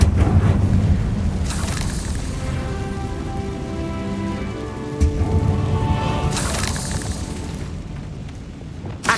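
A Confringo fire spell in Hogwarts Legacy bursts with a loud whooshing blast, then rumbles on with crackling fire and a roaring tail, followed by a second burst and a thud near the end.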